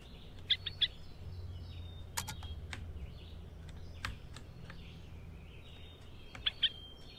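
In the video game A Bird Story, a bird gives brief, faint chirps, a pair at the start and another pair near the end, over a low hum with sparse clicks.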